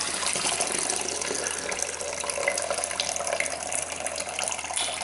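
Liquid from steeped grains and Cascade hops pours steadily through a sieve for home-brewed Coopers Extra Strong Vintage Ale, a continuous rushing splash with no talking.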